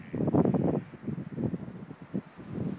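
Wind buffets the microphone in rough, uneven gusts, a low rumbling roar that swells and fades without any talking, on a blizzard-watch morning in Wellfleet.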